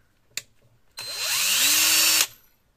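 Cordless hammer drill with a half-charged battery, salvaged from a dump in Germany, whirs loudly for about a second and a half, its pitch climbing as it spins up and then cutting off sharply after a brief click beforehand.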